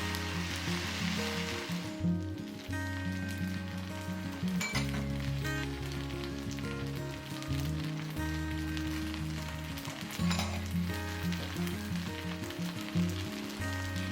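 Char kway teow noodles and eggs are stir-fried in a wok, giving a loud, continuous sizzle with the scrape and clatter of stirring, heard alone with no talking and accompanied by background music.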